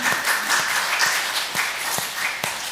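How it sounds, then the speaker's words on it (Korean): Audience applause for fathers at a Korean church service, a steady patter of many hands with a few sharper individual claps standing out, moderately loud and continuous. "우리 아버지들께 박수 한번 보내주시죠"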